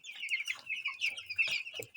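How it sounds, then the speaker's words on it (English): Farm chickens cluck and squawk close by in a quick, busy series of short calls, several birds overlapping without any talk. "Oh my chickens. My chickens are giving me joy."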